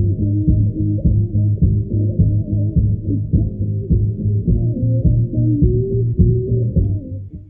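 Music muffled and distorted to mimic hearing loss, with a dull throbbing low-pitched beat and muddy tones lacking any treble, steady and loud throughout.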